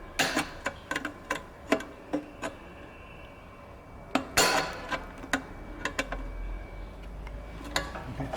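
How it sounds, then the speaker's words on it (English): Sharp metallic clicks and taps from pliers closing exhaust springs on a 2018+ Harley-Davidson Softail Milwaukee-Eight, a dozen or so irregular close ticks with a brief louder clatter midway. "Now I take my pliers and I close the springs."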